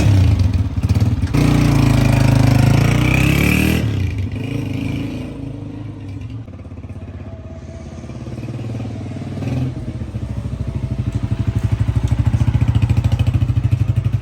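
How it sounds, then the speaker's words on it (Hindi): A new self-start motorcycle engine runs steadily and close by, with a rough low clatter that starts loud, eases off, and then swells again near the end. No one speaks over it. "नई बाइक ली है माशाल्लाह जी। ये सेल्फ स्टार्ट है।"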